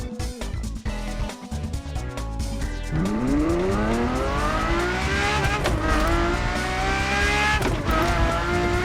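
A Ferrari LaFerrari supercar in the racing game The Crew Motorfest, its engine note climbing in steady rising sweeps as it accelerates hard, loud and close with no voices over it.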